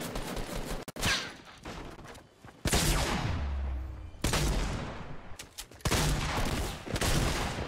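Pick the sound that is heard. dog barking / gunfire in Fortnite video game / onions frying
gunfire in Fortnite video game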